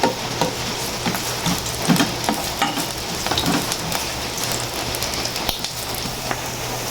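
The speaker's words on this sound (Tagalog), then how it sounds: "lagay na po yung bawang" Garlic sizzling as it hits a hot frying pan for sotanghon soup, a steady crackling fry with stirring scrapes, close and continuous with no talk.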